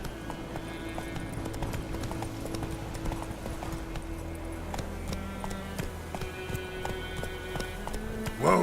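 Roach the horse gallops in a video game, a steady run of clip-clop hoofbeats heard close and clear over a continuous low background score.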